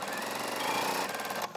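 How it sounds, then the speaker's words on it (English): A sewing machine stitches a quarter-inch seam through quilting fabric in a quick, even, buzzing run of needle strokes, close and steady, cutting off abruptly at the end. "adjust your top fabric, and then sew your 1/4 inch seam."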